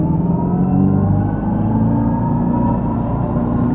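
A 2025 Dodge Charger Daytona Scat Pack accelerating hard in power shot mode, giving a loud, sustained low rumble with a steady build and no break.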